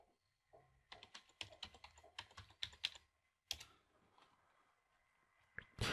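Fingers type a passphrase on a computer keyboard in quick bursts of crisp, close key clicks, separated by short pauses, with a few final isolated taps.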